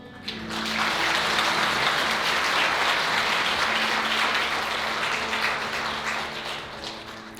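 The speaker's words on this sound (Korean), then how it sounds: "축하와 격려의 마음과 뜨거운 박수 한번 보내주시기 바랍니다" Wedding guests applaud the couple at a ceremony in a wedding hall, a full, sustained round of clapping from a large crowd that swells quickly and holds steady before easing off.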